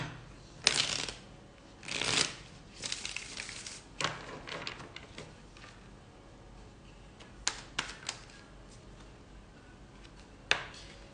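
Tarot cards being shuffled by hand, a series of crisp riffling bursts and softer card slaps spread across the stretch with short pauses between them, close and fairly quiet with no talking.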